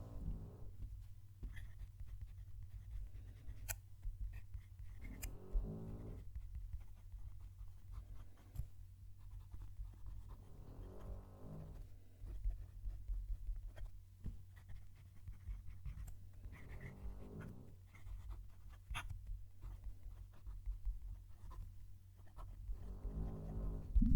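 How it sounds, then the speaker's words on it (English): A Majohn M400 fountain pen nib scratches across paper in several short bursts of writing strokes, close and quiet over a steady low background hum, with pauses between bursts. "Let's move the mic down to the page and I'll do some writing."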